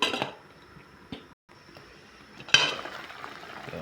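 Metal lid set onto a pot of simmering fish soup, a couple of soft clinks and then a sharper clatter as it seats, faint and close with a quiet bubbling underneath.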